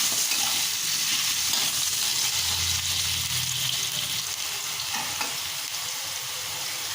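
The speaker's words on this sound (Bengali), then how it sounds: "সামান্য একটু হলুদ আর নুন আলুতে ছড়িয়ে দিলাম, দিয়ে আলুগুলো লালচে করে ভেজে নেব" Potatoes seasoned with turmeric and salt fry in hot oil with a continuous bright sizzle and occasional stirring, heard close and alone.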